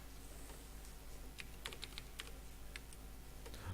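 A name being entered on a computer keyboard produces a quick, uneven run of light key taps close up, faint against a quiet hum.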